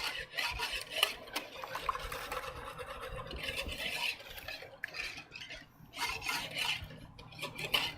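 Caesar salad dressing with hot sauce whisked in a small container, making steady rapid scraping and swishing strokes with brief pauses, close and quiet, no voices.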